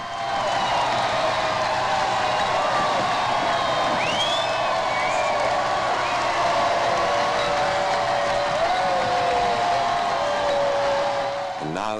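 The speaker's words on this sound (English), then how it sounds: "The huge, cheerful crowd that has waited so long and patiently roars and waves its welcome." A huge, cheerful crowd roars and cheers at Charles and Diana's 1981 wedding at St Paul's Cathedral. The sustained, distant wall of cheering and whoops carries through the whole stretch at a steady level.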